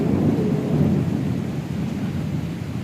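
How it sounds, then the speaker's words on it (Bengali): Thunder rumbling through a heavy storm with rain and wind at night in Dhaka, a dense continuous low roar that swells early and stays loud throughout. "বাজ পড়তেছে"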